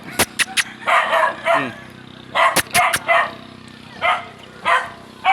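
A dog barks in sharp bursts, several quick barks scattered among people talking nearby outdoors among fishing boats in Navotas City.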